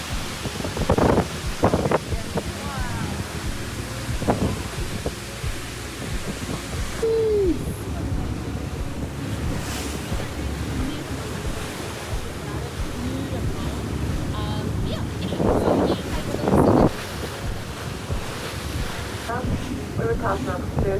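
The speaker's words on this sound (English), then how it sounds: "The wind." Wind gusts buffet a boat cruising through the Milford Sound fjord in New Zealand, a constant rushing roar against the microphone with water churning below and brief voices breaking through now and then.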